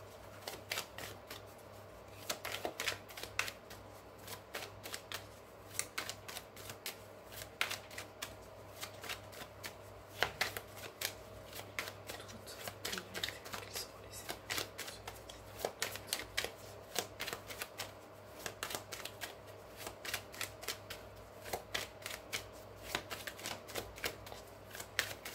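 A worn tarot deck that once belonged to a grandmother is shuffled steadily for the whole stretch, the cards giving off dense, rapid riffling and soft slapping with no speech over them.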